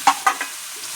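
Cauliflower and potato pieces are stirred into a cooked spice masala in oil, with three quick scraping stirs over a soft sizzle, all within about a second.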